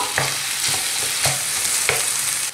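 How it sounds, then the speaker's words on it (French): Nem filling being mashed and mixed in a hot pan, a continuous sizzle broken by rhythmic scraping and pressing strokes about every half second, close and without talk. "je continue à écraser et mélanger en même temps ma farce"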